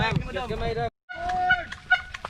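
Turkey-like fowl calling at a Christmas party gathering, with bursts of gobbling and squawking calls close by, broken by a brief silent gap midway.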